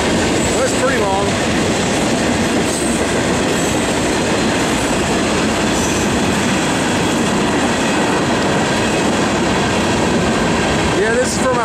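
A long Norfolk Southern freight train rolls past close by in Wadley, Georgia, a steady loud rumble of wheels and cars with clanking and occasional squeals throughout.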